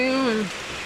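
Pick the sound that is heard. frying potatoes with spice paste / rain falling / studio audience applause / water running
rain falling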